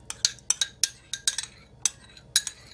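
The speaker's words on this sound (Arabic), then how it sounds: "نخلط العناصر كلها" Utensils clink against a bowl while the filling for stuffed batbout is being mixed, giving a series of sharp, close metallic taps in an irregular rhythm, about a dozen strikes with nothing else in the background.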